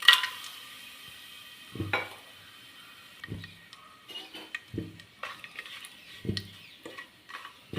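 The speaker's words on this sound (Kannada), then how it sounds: "ಒಗ್ಗರಣೆಗೆ ಸ್ಪೈಸಸ್ ಹಾಕ್ಕೊಳ್ಳೋಣ" Spices sizzle softly in hot oil for tempering a tomato bath, punctuated every second or so by sharp clinks and scrapes of a utensil stirring in the pan.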